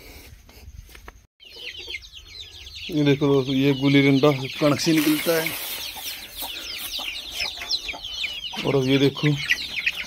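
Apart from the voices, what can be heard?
desi rooster clucking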